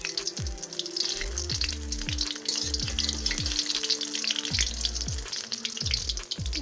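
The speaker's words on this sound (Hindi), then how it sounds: "जैसे जैसे फ्राई होंगे खुद ही ऊपर आ रहे हैं।" Pakoras deep frying in hot oil, rising to the surface as they cook, with a dense continuous bubbling sizzle and some low hum in the background, close and fairly loud with no voices.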